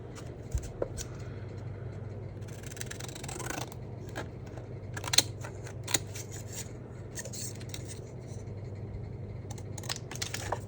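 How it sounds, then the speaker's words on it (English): Scissors trimming excess craft paper from a printed forest-floor background, a run of crisp snipping cuts with a rustle of paper handling, close and steady with no talk. "So let's just trim off our excess."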